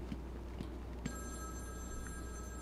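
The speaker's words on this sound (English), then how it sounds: "we are not answering no damn phone" A telephone rings in the Batman: Arkham City video game, a faint electronic trill starting partway through and holding steadily beneath a low, constant background hum with no voices.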